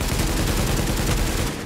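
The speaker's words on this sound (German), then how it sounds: "Warum ich jetzt hier so komische Schüsse abgebe?" Pump shotgun fire in the video game The Division comes as a dense, loud burst of gunfire that fills the moment before tapering off.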